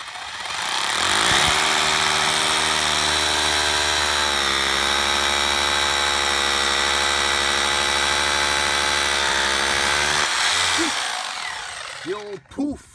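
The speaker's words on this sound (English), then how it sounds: "there's the little pilot drill we're using. This 3/16 cement drill." A 3/16 cement pilot drill bores into concrete while a pool cover is installed, a loud steady high-pitched whine lasting about ten seconds before winding down, followed by a few faint clunks.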